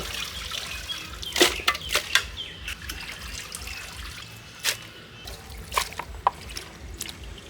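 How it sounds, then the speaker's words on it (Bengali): Chicken meat is rinsed with water, heard as a steady nearby trickle and splash with a few louder sloshes as the pieces are handled. "আমার গোসটা সুন্দর করে ধুয়ে নেবো।"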